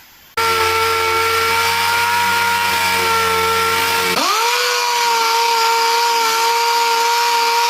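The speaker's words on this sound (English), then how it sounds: "I'm going to sand them up with 400 grit and then go from there." A power sander with 400 grit paper works on truck rims of an LB7 Duramax pickup, a loud steady motor whine that drops in pitch partway through as it bears down, with no talk.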